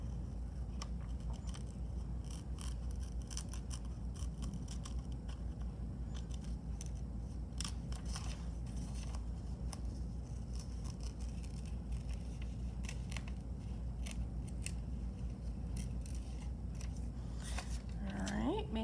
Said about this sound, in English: Then we're going to cut that out again.